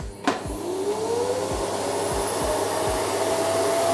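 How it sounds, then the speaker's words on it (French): A vacuum cleaner powered by an EcoFlow power station starts with a click and runs at a loud, steady motor whine and airflow roar close by, with no talking. "maintenant si je mets en route l'aspirateur"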